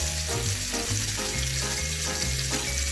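Pork chops fry in a cast iron skillet with a loud, continuous close sizzle and crackle over a low rhythmic hum.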